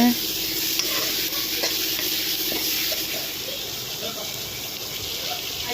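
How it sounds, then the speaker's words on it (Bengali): Spices sizzling in hot oil for a katla fish and potato curry, a steady loud hiss running unbroken throughout with faint stirring clicks and no talk. "এখানে মশলা তেলে দেওয়া হয়েছে"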